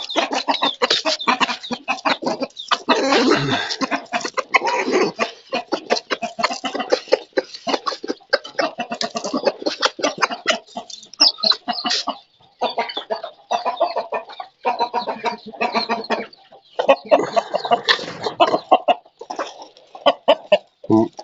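Farm chickens, hens kept with a rooster in a pen, cluck and squawk in dense, overlapping bursts, close and fairly loud, with no voices over them.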